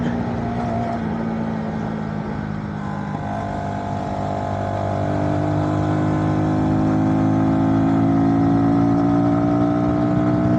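Voge 125R motorcycle engine running close by, a steady buzzing drone that climbs in pitch as the revs rise in the second half and holds there.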